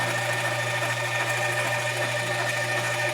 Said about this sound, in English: Let's drill this in.